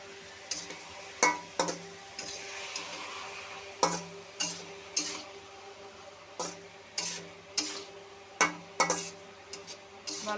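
Cut taro pieces stirred with salt in a pan for a fried taro dish with hilsa fish roe, giving repeated sharp scraping clinks of a utensil against the pan in an irregular rhythm over a low steady background hum.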